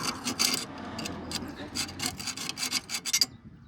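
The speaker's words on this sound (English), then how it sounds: "So you just see me scraping it all off." A tool scrapes built-up carbon off the tip of a fridge heat exchanger, making short, close, gritty rasping strokes in uneven bursts.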